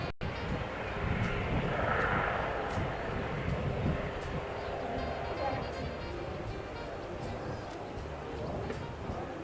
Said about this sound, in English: Helicopter has taken off